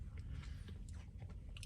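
Close, steady crunching and chewing of a candy and peanut butter waffle snack, a run of crisp bites packed into under two seconds, with no talk over it.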